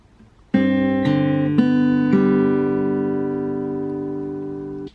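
Acoustic guitar plucked in a fingerpicking pattern for the song Wala Kang Katulad, a few distinct string plucks in quick succession ringing out and sustaining together, close and clear with no talking.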